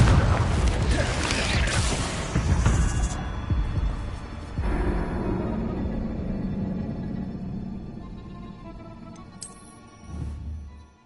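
A Confringo spell blast in the video game Hogwarts Legacy: a heavy, booming explosion at the start that rolls into a low, throbbing rumble and slowly fades, with a second softer burst near the end.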